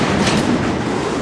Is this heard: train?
yes